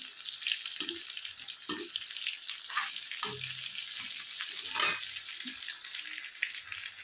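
Litti frying in hot oil in a kadhai, giving a steady bright sizzle and crackle with occasional clinks and stirring sounds, close and continuous throughout.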